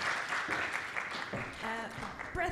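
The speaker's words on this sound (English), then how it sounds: "big round of applause" Audience applause at a London startup scaleup showcase event, a steady broadband clatter filling the room for about two seconds, with a voice speaking over it near the end.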